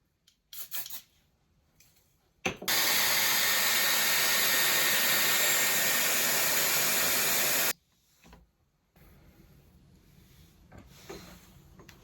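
A Dyson Airwrap blows on its cool setting, a steady loud whooshing airflow lasting about five seconds, framed by brief handling noises and quieter rustling before and after.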